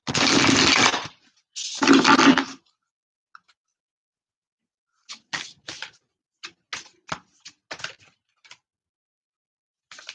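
Tarot cards shuffled in two quick riffling bursts, followed by a scattered series of light clicks and taps as the deck is squared and handled, all close and with no talk.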